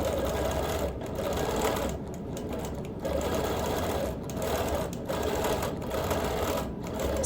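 A sewing machine free-motion quilting a log cabin quilt runs steadily and up close, its rapid needle chatter broken by a few short pauses.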